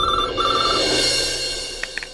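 A telephone bell rings in a repeated electronic trill, loud and close, trailing off into a short pause and then a few faint clicks at the end, with no speech.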